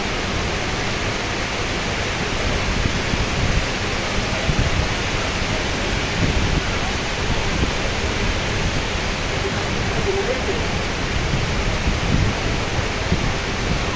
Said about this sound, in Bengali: এই ঝড় বৃষ্টির মাঝেও যেন জেলেরা থেমে নেই।